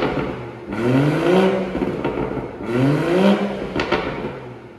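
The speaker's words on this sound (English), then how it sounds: "So we'll let the vehicle warm up and we'll just see what it sounds like in comfort mode." A 335 bhp 3.0-litre BMW M240i two-door idling after warm-up, then blipped twice in sport mode, each rev rising and falling in pitch over a steady rumble, close and loud, no talking.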